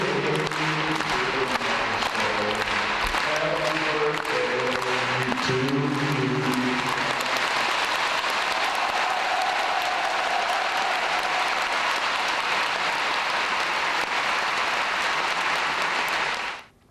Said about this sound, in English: That's how you clap.